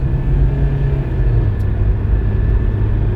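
A 2012 Nissan Versa S with manual transmission runs on a test drive, a loud, steady low engine rumble inside the car with no one speaking.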